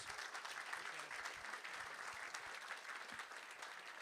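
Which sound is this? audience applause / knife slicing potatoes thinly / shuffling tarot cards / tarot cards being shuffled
audience applause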